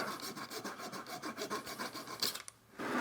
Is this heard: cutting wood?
yes